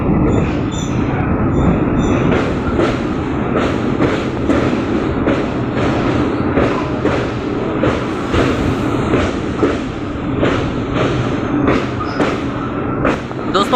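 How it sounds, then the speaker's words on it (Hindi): A passenger train rolls slowly through Barabanki junction in Uttar Pradesh, wheels clicking rhythmically over rail joints and points with a steady rumble and faint squeal, heard from on board. "दोस्तों हम लोग स्किप कर रहे हैं उत्तर प्रदेश के बाराबंकी जंक्शन को स्लोली स्पीड में"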